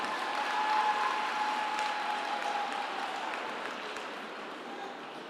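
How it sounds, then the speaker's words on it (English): An audience applauds a choir at a graduation ceremony, a dense, steady wash of clapping that slowly fades a little over several seconds and carries faint crowd murmur underneath. "Another round of applause."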